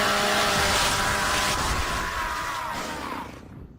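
Gears of War chainsaw melee attack from the video game, a loud continuous revving, grinding roar with harsh buzz that holds steady, then thins and fades out near the end.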